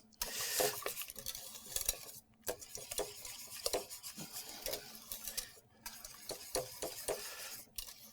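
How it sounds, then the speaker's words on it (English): Whisk scraping and tapping around a bowl of blueberry muffin batter with milk and vanilla, a steady run of close rubbing strokes broken by brief pauses. "Stir this up nicely. Mix this nicely up."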